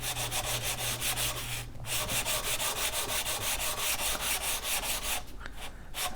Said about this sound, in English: we'll just sand it and go from there until we can get a nice smooth finish on it